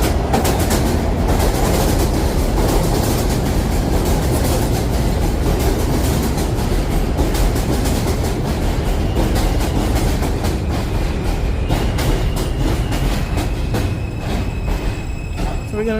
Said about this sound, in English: I'm going on the train that going in the Queen's direction.